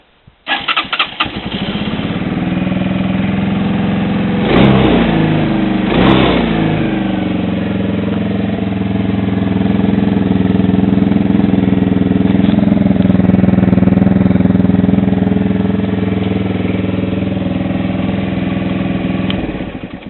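A Megelli 125R Supersport motorcycle engine cranks and catches, gives two sharp revs, then settles into a steady, loud close-up idle that holds until it cuts off at the end.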